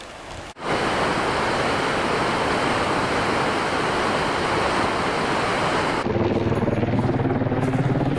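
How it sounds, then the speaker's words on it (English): Rushing water at a big creek crossing on a trail run, a loud continuous roar of flowing water close by, steady throughout after a brief bump at the start. "we got a second big creek crossing they were talking about."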